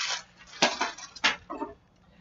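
A knife chops vegetables on a board for soup in a few quick, sharp strokes, close and clear, with short pauses between cuts.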